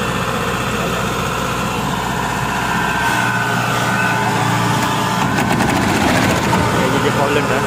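A Kubota DC68G King 2 combine harvester with a faulty gearbox runs loudly and continuously, a dense droning engine rumble with rattling vibration that stays steady throughout.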